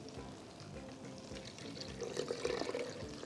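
Water poured into a salted beef seekh kabab mixture, a soft trickling splash that builds toward the end, faint and close in a kitchen.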